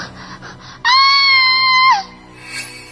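A girl's shrill, sustained scream lasting about a second rings out clearly in a narrated ghost story, with soft background sounds before and after it.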